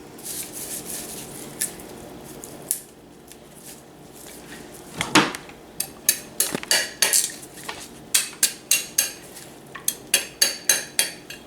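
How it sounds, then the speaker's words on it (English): The back of a kitchen knife knocks against a fresh coconut in a rapid series of sharp, hard taps, about a dozen close strikes. Earlier there is some clattering of utensils on a counter. "You gotta use this back of the knife so you won't damage the blade."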